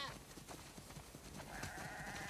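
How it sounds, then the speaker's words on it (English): Sheep in the video game The Last of Us Part II bleat faintly, a wavering call rising near the end against quiet background noise. "We definitely have way too many sheep."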